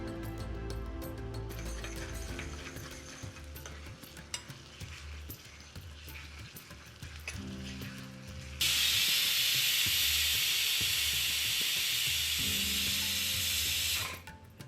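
Ginger-garlic paste hits browning onions in a pan for mutton shami kabab: quiet stirring and light crackle at first, then a sudden loud, steady hiss of sizzling that holds for several seconds before easing off.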